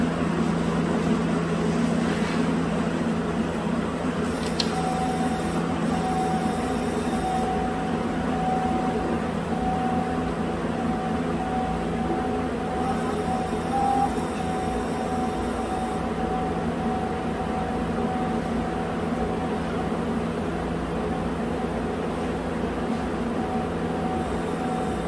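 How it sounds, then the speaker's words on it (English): A 2011 Chevrolet Cruze wiper motor runs without its arm connected, giving a steady mechanical hum with a faint whine that holds for the whole stretch, shifting slightly in tone at intervals, close and fairly loud. "The wiper motor installed, but I don't have the arm connected, so I'm going to turn the wipers on now."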